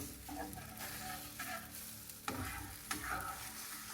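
Egg mixed with vegetables fries in a pan over reduced heat, giving a steady crackling sizzle with a few scraping turns and knocks, close and continuous with no talk.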